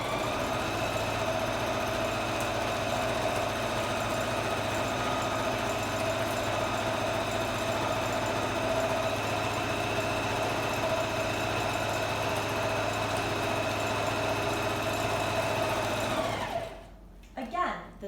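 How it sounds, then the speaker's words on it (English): A sewing machine runs continuously for about sixteen seconds while stitching a tote bag, a steady loud mechanical hum that stops abruptly near the end. "now the good news is you can just keep sewing and you don't have to reverse because now it's just 1 consecutive stitch"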